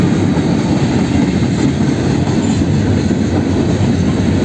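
A BNSF freight train led by a single GE Evolution locomotive passes nearby, a loud, steady rumble with rolling rail noise and no speech.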